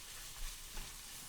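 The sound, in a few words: chicken floss frying and sizzling in a pan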